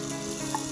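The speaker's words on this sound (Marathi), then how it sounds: "तर आपल्याला एक कांदा टमाटर भाजायचा आहे." Onion and tomato frying in a pan for chicken biryani, a brief steady close sizzle with a faint scrape near the end.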